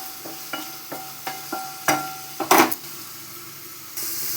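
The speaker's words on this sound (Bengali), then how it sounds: "খুব সুন্দর ফুলকপিটা ভাজা হয়ে যাচ্ছে বন্ধুরা।" Cauliflower fries in a pan with a faint sizzle as a spatula taps and scrapes in a few spaced strokes, close and fairly quiet.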